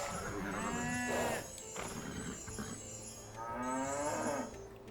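Cows in a historical strategy video game give two long, loud moos a few seconds apart, close and clear over a low ambient background.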